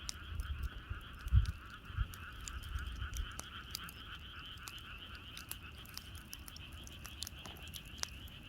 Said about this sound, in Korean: 옆에서는 개구리 울음소리가 나고